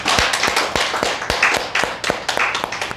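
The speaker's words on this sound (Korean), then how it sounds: "하나님께 감사의 박수로 영광 올리시겠습니다." A church congregation claps at a New Year's Eve service, sharp close hand claps in a loose, fairly quick rhythm, clearly audible with no voices over them.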